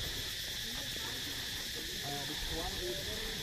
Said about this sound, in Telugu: కీచురాళ్ళు ఎట్లా అరుస్తున్నాయో వినండి